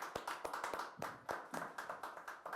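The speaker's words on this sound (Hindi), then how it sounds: "उधर से भी तालियां बज रही हैं" Distant audience clapping at a live commentary event, a quiet patter of many hands rising and falling over about three seconds, with no voices over it.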